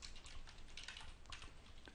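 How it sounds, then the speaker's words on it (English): Rapid typing on a computer keyboard, a steady stream of close, dense key clicks running throughout with no voices. "I'm using my keyboard."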